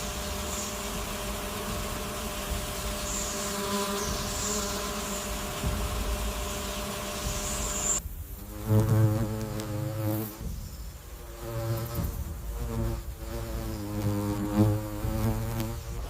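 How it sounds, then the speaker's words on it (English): Wasps and other insects gathering beneath cicadas in a forest, a close, steady buzzing drone that shifts to stronger, wavering wingbeats halfway through, with no talk. "Ants, wasps, and beetles, they all gather beneath these mobile forest bars to drink the sweet manna falling from the sky."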